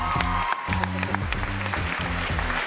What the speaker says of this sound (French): Et on applaudit le metteur en scène de ce spectacle